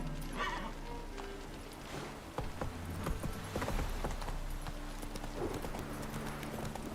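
Horse hooves trotting in Witcher 3: a steady, close clip-clop rhythm of hoofbeats over a low ambient hum, with no talk over it.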